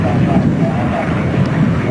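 A Miles Messenger and a Gemini, vintage light aircraft, fly past at a 1994 air show at Cranfield, Bedfordshire, giving a steady propeller-engine drone mixed with wind noise.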